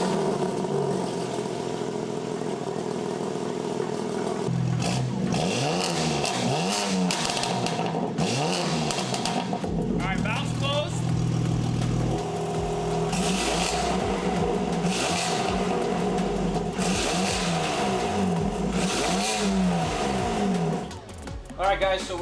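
BMW G80 fitted with Ostar downpipes and mid pipe, the exhaust revved repeatedly through rising and falling sweeps, loud and close with a raspy drone and sharp pops near the end.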